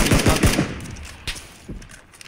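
Gunfire in the PUBG Battlegrounds video game: a quick burst of four loud rifle shots, then scattered single shots and softer distant cracks trailing off, with no voices over it.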